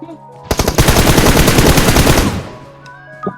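Rapid automatic gunfire from PUBG Mobile rattles out in one loud, close burst of about two seconds, then cuts off, leaving a quiet tail with a faint late shot.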